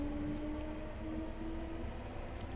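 Delhi Metro train running on its track, a steady low rumble heard from inside the car with a faint thin whine drifting over it, continuous and fairly quiet, with no voices.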